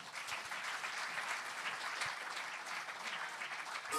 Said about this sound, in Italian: Un applauso per Dani Cabras.